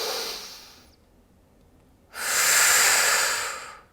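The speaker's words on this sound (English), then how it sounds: "Inhale and exhale." Deep yoga breath during a power yoga session: a steady airy inhale through the nose fades into a short pause, then a fuller, louder hissing exhale, close and alone.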